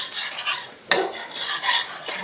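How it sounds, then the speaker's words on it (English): Flour browning in a pan for smothered pork chops gravy, stirred continuously with a utensil, a steady close scraping and light sizzle with one sharper knock midway, no talk. "we're going to start browning this flour a little bit"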